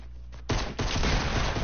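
Pistol gunfire in Fortnite bursts in loud and near at about half a second and keeps going as a rapid volley of shots to the end, after a quieter stretch.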